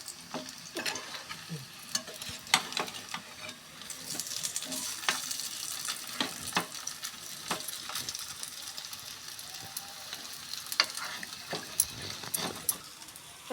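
Broccoli cutlets fry in oil in a pan, giving a quiet, steady sizzle punctuated by sharp crackles and pops spread irregularly throughout, with no voices.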